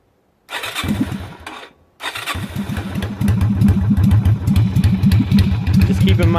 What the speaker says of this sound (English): I'm going to go ahead and fire the bike up.